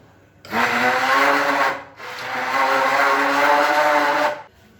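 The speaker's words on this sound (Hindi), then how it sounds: "इस पॉइंट पे आपने इसको ब्लेंड करना है। आप चाहें तो हैंड ब्लेंडर से कर लें" A hand blender blending tomatoes whirs loudly in two steady bursts, a brief pause between them, the motor humming close and strong with no talking.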